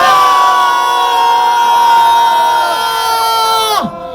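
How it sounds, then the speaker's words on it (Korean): Crowd at a political rally letting out one long, loud sustained roar of cheering and shouting, held steady before dropping away abruptly at the end. "다시 한번 3분간 큰 소리를 함성!"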